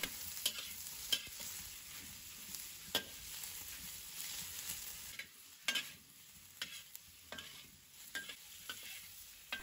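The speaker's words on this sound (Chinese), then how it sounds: "再倒入鸡肉，开大火爆炒，这样才能够最快速度的炒干鸡肉的水分" Chicken stir-fried over high heat in a wok for a pork tripe soup: a continuous sizzle with repeated sharp scrapes and clacks of the spatula throughout.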